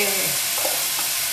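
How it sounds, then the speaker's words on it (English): A spoon stirs a bacon mixture in a hot pan, steady scraping over a continuous loud sizzle of frying fat. "I'm going to stir up my bacon stuff again."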